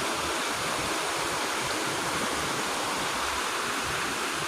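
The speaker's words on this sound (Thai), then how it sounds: "มีน้ำตกเล็กหน่อย" A steady rush of falling water, an even broadband splashing roar with no pauses, like a small cascade heard up close.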